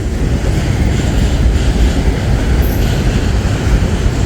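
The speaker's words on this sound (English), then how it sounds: "Oh yeah, here comes the mixed freight." Freight train with auto racks and mixed freight cars rolls past at close range, a loud continuous rumble of wheels and rail noise with a faint high squeal, no voices heard.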